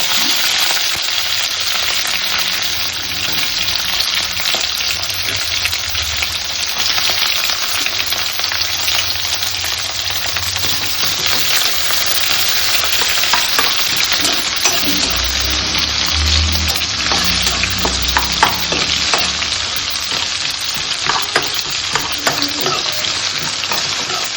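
Curry leaves and onion frying in hot oil for pumpkin palya, a loud continuous sizzle with stirring scrapes throughout, close and steady.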